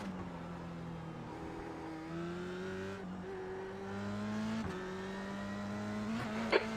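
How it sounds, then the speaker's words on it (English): Race car engines in the iRacing video game drone steadily, with rising and falling pitch as cars accelerate and shift through gears, a continuous mid-level whine with no talk. "There's a car rejoining."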